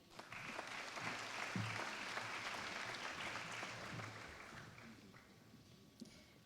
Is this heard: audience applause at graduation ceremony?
yes